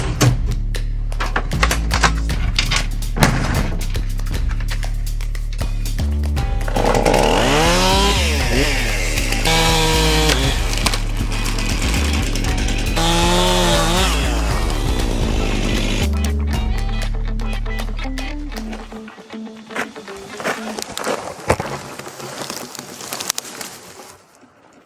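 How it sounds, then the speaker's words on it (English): A chainsaw cuts through logs blocking a forest path. A loud, close engine roars and revs through long cuts, then cuts out near the end, leaving faint clattering and handling sounds. "Sometimes logs get in the way. That's why I always gotta carry a chainsaw."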